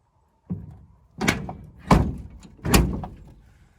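The door of a 1946 Chevy truck shuts with a solid thunk, followed by two more heavier closes in quick succession, each a close, dull, resonant slam with a short metallic ring.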